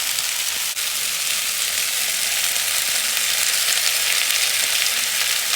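Pre-cooked oil goes into a pan of frying mixed vegetables and sets off a loud, even sizzle. A brief clatter comes near the start, then a steady crackling hiss continues to the end.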